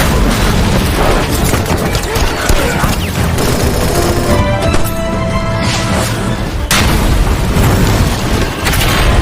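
Heavy artillery explosions in a Korean War battle film set in a clash between Chinese and American troops: a continuous, loud wall of booming blasts and rumbling detonations that runs without pause, with voices faintly mixed into the din.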